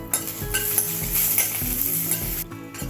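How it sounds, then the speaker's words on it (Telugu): Dried red chillies and curry leaves fry in a pan for a bitter gourd fry, a close, steady sizzle with faint stirring and utensil clinks throughout. "అలాగే కరివేపాకు కూడా వేసి వేయించేసుకుందాం."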